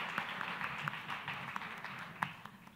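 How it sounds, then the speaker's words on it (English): Distant audience applause at a management convention, a steady patter of many hands clapping at an even level, continuing without voices. "A round of applause, ladies and gentlemen"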